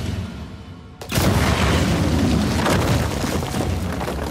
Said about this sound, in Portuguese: Lá vai, bomba!